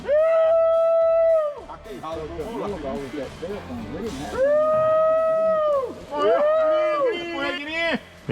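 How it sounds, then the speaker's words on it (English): Hunting dogs bay and howl in long, drawn-out, wavering calls during a North Carolina black bear hunt, several voices overlapping and rising and falling in bursts, fairly loud and near. "the dogs are still there barking like the bear's there"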